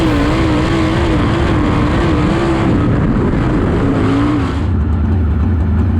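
A race car V8 screams at about 9,000 RPM, loud and close, holding a steady howl with a slight dip near the end.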